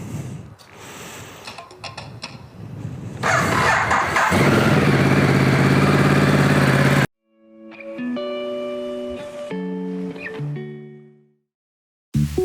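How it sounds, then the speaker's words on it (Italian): A motorcycle engine cranks, catches and revs into a loud, steady roar for several seconds while warming up, then cuts abruptly to music. "E adesso accendiamo la moto, la scaldiamo"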